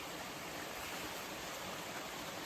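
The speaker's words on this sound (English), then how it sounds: "Beautiful creek." A creek flows steadily beside a hiking trail in Shenandoah National Park, a close, constant broadband rush of running water with no voices.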